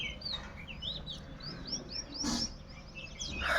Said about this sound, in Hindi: आज उठ के मैं सब में चिड़ियों की चहचहाहट आप लोगों को भी